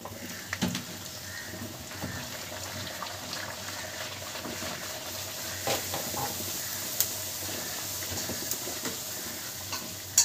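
Spinach luchi frying in hot oil: a soft, continuous bubbling sizzle with occasional light clinks of a slotted spoon, heard close and fairly quiet.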